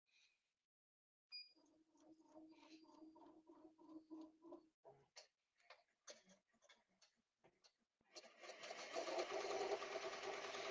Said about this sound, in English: Hit start. So it's gonna do the sand stitch for the bottom part first.